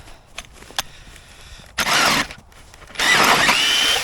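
A battery-powered ice auger whirs in two loud, close bursts as its blades bore through lake ice while perch fishing, with faint clicks and handling noise between runs.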